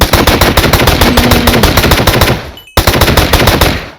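Rapid automatic gunfire from a gun in Minecraft, loud and close, rattling in fast continuous bursts with a brief cutoff before the shooting resumes.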